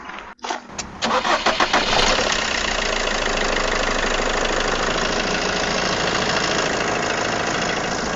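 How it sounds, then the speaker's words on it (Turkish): A Fiat Doblo's engine cranks with a few rapid starter turns and catches, then settles into a steady, loud idle close by with no talking. "Üyemicim arabayı bir çalıştıralım sana"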